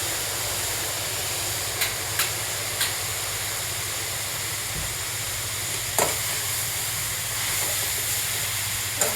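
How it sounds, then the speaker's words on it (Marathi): Mixed vegetables stir-frying in a large, thin kadhai give off a steady, moderately quiet hiss and sizzle, with occasional soft clinks and scrapes of stirring scattered throughout. "संपूर्ण भाज्या मी कढईत टाकून घेतल्या आहेत।"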